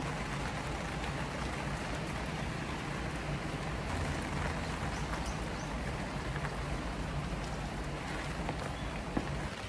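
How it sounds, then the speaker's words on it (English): Rain falls in the Japanese countryside near the mountains, a soft, even hiss of drops that continues without a break and with no voices. "Just me in the middle of nowhere in Japan, near the mountains, and it's raining."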